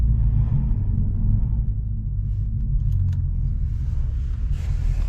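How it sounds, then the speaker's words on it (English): Stock mufflers on a Lexus IS 500 rattle while driving, heard as a low, continuous road and exhaust rumble from inside the car, with faint light rattles and jingles above the drone. "My stock mufflers rattling in the background."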